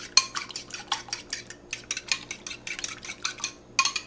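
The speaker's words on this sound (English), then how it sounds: "You want to beat them together first," Three eggs being beaten in a bowl with a utensil, a brisk run of rapid, regular clinking strokes close by, with short pauses between bursts and no voices.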